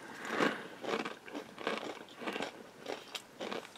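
Crisp crunching of shoestring potato sticks, dried fry-like snack pieces, chewed in a rapid rhythm of about seven or eight close, distinct bites, each a short brittle crackle, with no talking.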